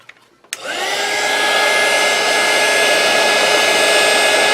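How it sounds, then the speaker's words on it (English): Heat gun shrinking heat shrink tubing over a wire repair on a George Foreman grill: a click, then a loud, steady blowing roar with a whine that holds to the end, alone without talk. "Now we'll just heat the fuck out of it."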